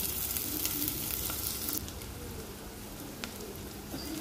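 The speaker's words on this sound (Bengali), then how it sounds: "পেঁয়াজটা ভালো করে ভাজা হোক।" Onions fry in oil left over from frying rohu fish, making a loud, dense sizzle that eases slightly partway through, with no voices.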